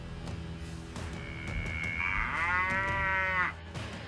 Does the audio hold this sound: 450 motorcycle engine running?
no